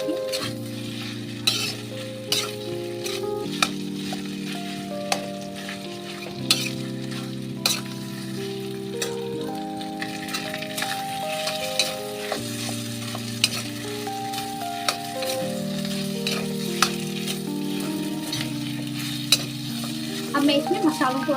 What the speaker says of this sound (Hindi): इसे अच्छे से आप फ्राई करें आलू को